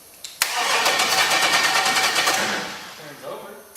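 An LS turbo engine fitted in a Miata-based kart cranks over steadily for about three seconds with no fuel supplied yet, a loud close starter whirr that never catches, starting and stopping abruptly.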